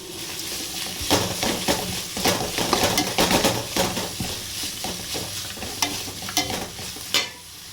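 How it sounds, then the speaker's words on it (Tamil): Mint and coriander leaves, freshly washed, tossed and stirred in a hot pan, with steady sizzling and repeated scrapes and clinks of a utensil against the metal, close and fairly loud, with no talking. "நம்ம அலசி வச்சுருக்க புதினா, கொத்தமல்லி எல்லாத்தையும் போட்டு வதக்கிக்கலாம்"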